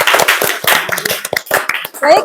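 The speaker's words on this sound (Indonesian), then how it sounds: "Kita tepuk tangan." Students in a class clapping their hands together, a loose burst of claps mixed with voices talking over them, near and fairly loud.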